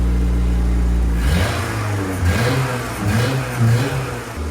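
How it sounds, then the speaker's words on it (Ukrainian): Ford sports car engine, low on fuel, running close and loud: a steady idle gives way to uneven revving that rises and falls over several seconds, with no talk. "Там бензину дуже мало, вона сама газує."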